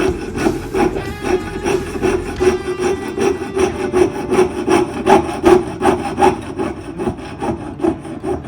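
Hand grinding on a small welded jewelry necklace piece: rhythmic rasping strokes, roughly one or two per second, each a gritty scrape, close and clear with no voices.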